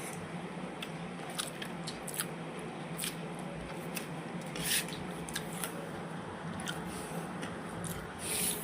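Someone eats fried ivy gourd at close range, with soft crunchy bites and moist chewing repeating over a steady low background hiss and no speech.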